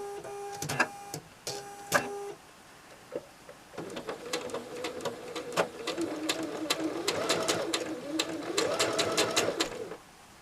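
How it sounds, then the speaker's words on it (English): A sewing machine stitches pinwheel quilt blocks into a four-patch, running in steady rapid bursts with short pauses and a higher whirring stretch that rises and falls; two brief sharp beeping tones come first. "So we're just going to sew them together as a 4 patch now"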